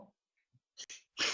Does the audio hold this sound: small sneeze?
yes